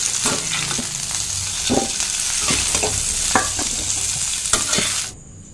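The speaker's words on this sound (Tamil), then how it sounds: "இப்போ காலிஃப்ளவர் சேர்த்துட்டு நல்லா அந்த எண்ணெயிலே நல்லா வதங்கணும்" Cauliflower sautéing in oil in a pan, a steady close sizzle with repeated scraping stirs of a spoon against the pan, ending abruptly.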